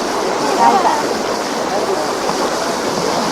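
Waves on Lake Balaton in Hungary wash and splash in a steady, close rush of water noise, broad and unbroken.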